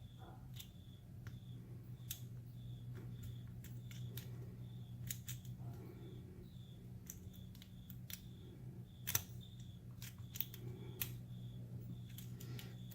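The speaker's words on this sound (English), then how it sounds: "Okay, getting a lot of clicks here." A lock pick working the pins inside a lock, giving a steady series of faint, sharp, close clicks at an irregular rhythm over a low background hum, with no talking.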